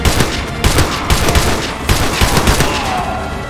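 Gunfire from snipers in Modern Warfare 2 Remastered rings out as a run of sharp, loud shots at uneven intervals, with echoing tails and a rattling fusillade between them, no talking.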